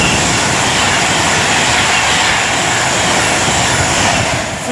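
A Class 390 electric train, unit 390045, running through Rugby station on the West Coast Main Line between London Euston and Birmingham New Street, making a loud, steady rushing roar close by that holds for the whole stretch with no voices.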